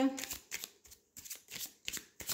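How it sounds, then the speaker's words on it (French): A deck of Lenormand cards being shuffled by hand, crisp riffling bursts repeating in a quick rhythm, close and fairly loud with no talking. "Je vais bien brasser mes cartes."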